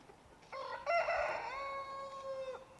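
A young rooster gives a single thin, weak crow lasting about two seconds, close by and clear, with a rising start and a long held tone before it breaks off.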